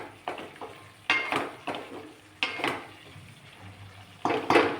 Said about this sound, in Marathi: दोन मिनिटं झाली त्याला मसाला परततोय.